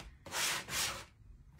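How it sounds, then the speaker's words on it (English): A sanding block rubs along the edge of a wooden decoupage coaster, making two close, raspy strokes followed by quiet, near and distinct. "you can use a sanding block like this or just regular sandpaper"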